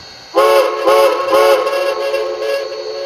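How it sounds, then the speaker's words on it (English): A Buffalo Creek and Gauley three-chime steam whistle from an HO model locomotive's sound decoder sounds in several loud, sustained chords. Short blasts are followed by a long held tone, with no speech. "Original Buffalo Creek and Golly 3 chime from number 4."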